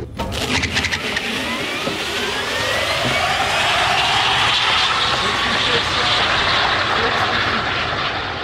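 An electric car launching at full throttle on a drag strip, a rising electric motor whine climbing steadily over heavy roar of wind and road noise, loud and continuous throughout.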